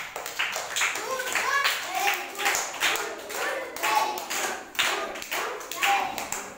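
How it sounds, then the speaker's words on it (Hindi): A classroom of children claps together for two classmates in a rhythmic, uneven burst of hand claps that lasts several seconds, close and fairly loud. "चलो इन दोनों लोग के लिए ताली बजा दो।"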